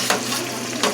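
Onions sizzle in a pan during home cooking, a steady close hiss broken by two brief scraping stirs, with no voices.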